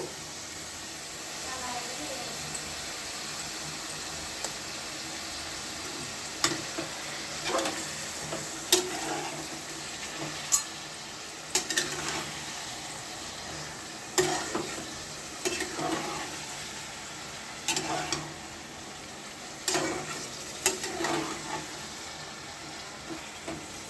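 Chicken pieces for pickle fry in a pan, a steady hissing sizzle punctuated by repeated scraping stirs of a utensil, close by, with a voice speaking at times over it.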